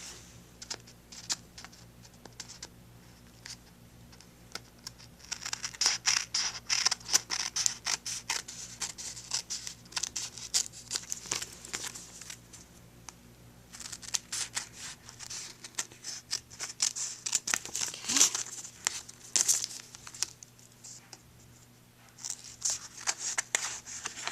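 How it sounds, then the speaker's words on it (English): Scissors trim paper stuck to contact paper for a Christmas card, making a long run of quick, close snipping and rustling clicks, with a few louder cuts and no talk. "And now I'm going to go ahead and trim like we did before."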